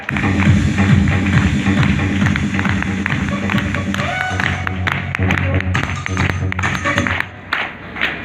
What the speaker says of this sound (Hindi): एक जोरदार ताली म्यूजिक के साथ में, जोरदार ताली